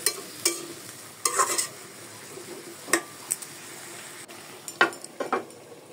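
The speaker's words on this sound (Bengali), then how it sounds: "এটা ভালো করে কষাতে হবে।" A cauliflower curry is stir-fried in a pan: a soft sizzle runs under repeated spatula knocks and scrapes against the metal, coming in short bursts. No one speaks.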